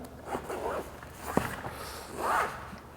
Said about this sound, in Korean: 안에는 이제 보면은 지퍼가 금색이네요